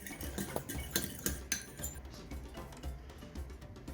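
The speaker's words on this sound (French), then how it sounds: "Et ensuite, vous mélangez." Yeast is stirred into warm milk in a bowl, producing soft, quick clinks and scrapes of a utensil against the bowl, close but quiet, with no talking.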